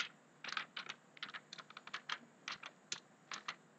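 Typing on a computer keyboard while entering a spreadsheet formula: a steady run of crisp, close key clicks in uneven bursts, alone without speech.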